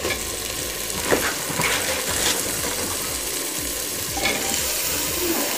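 Vegetables for khichdi fry in a pan with a steady close sizzle, punctuated by scraping stirs and occasional clinks, continuous and fairly loud without talk.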